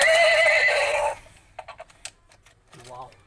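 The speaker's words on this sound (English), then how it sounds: "battery operated horse" A battery-operated toy horse gives a loud electronic neigh, then a rapid run of light clip-clop clicks, followed by a short voice-like sound.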